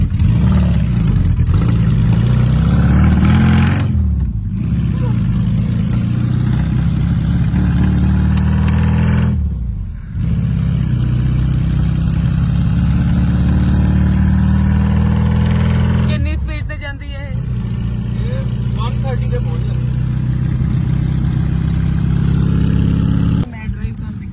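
A vehicle engine with a faulty starter, run from a makeshift switch, runs close and loud with a steady low rumble, briefly dropping off a few times before picking back up.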